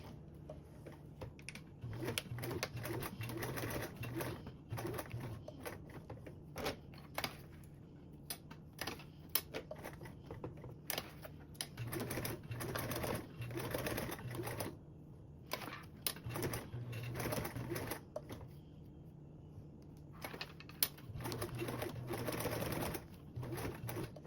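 Sewing machine stitching a second row of stitches along a fabric sling strap, running in steady bursts of rapid mechanical chatter with short pauses between runs.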